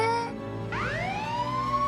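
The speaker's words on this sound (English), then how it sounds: "An ambulance came and took the mother to the hospital." A cartoon ambulance siren, a loud wailing tone that rises and sweeps upward, heard alone and close.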